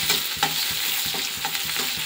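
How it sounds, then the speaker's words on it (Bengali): Fish curry ingredients fry loudly in a pan, a dense sizzle broken by rapid, regular scraping and clinking stir strokes close up. "তো এখন এই যে এটা ভেজে নেবো একটু ভালো করে।"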